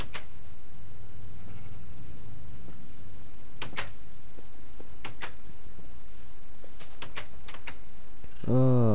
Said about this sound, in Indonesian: kambing Indo merah putih